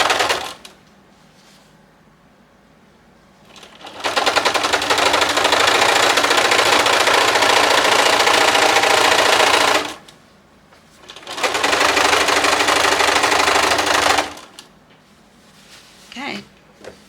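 A sewing machine stitches a wedding dress skirt in two long, loud runs of rapid, even whirring, separated by a short pause and followed by faint handling noises.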